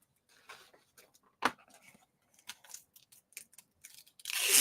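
Scissors snip through a new piece of rhinestone transfer sheet for a hat, a few short crisp cuts and rustles close up, ending in a louder crinkling of the sheet.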